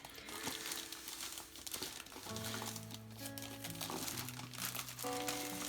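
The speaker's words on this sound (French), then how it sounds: "le plastique va faire du bruit encore" Plastic wrapping on a Diamond Art Club diamond painting kit crinkles and crackles steadily throughout the unboxing, with sustained musical tones running underneath.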